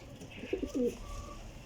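A soft pigeon coo, a couple of low throaty notes, heard briefly over faint background noise.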